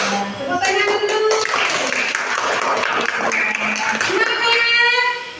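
Schoolchildren in an Indonesian classroom clap their hands together, a close, busy patter of claps mixed with children's voices and chatter across the short stretch.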